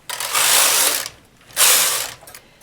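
Knitting machine carriage sliding across the needle bed twice to knit two rows, each pass a loud, close, whirring rattle of about a second, with a short pause between them.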